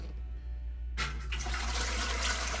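Water gushing into a Presto 23-quart pressure canner, about half a gallon, starting abruptly after a low hum and continuing as a steady splashing pour.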